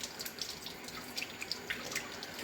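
A kitchen tap runs steadily, its close hissing stream punctuated by small splashes against the sink, with nobody talking.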